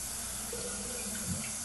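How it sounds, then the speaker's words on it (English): Water from an overfilled toilet tank spills steadily down into the bowl through a faulty fill valve, a close, continuous trickling hiss with a brief gurgle near the end, no voices. "the water is all the way up to the top of here, and it's running down into the bowl"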